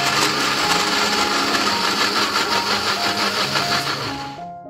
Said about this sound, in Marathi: याच पद्धतीने बीटाची देखील आपण मिक्सरला बारीक पेस्ट करून घेणार आहोत।